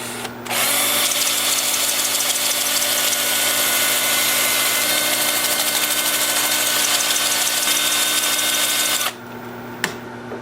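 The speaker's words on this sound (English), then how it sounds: "Then I'll switch over to my 2-inch sanding disc." A 2-inch sanding disc spins against a turned wooden winged bowl with a loud, steady whirring drone lasting several seconds, then cuts off abruptly.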